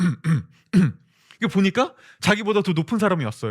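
A man vocally imitates a throat clearing, like a guest coughing politely behind someone at a banquet. The short 'ahem' bursts come first, then he keeps talking.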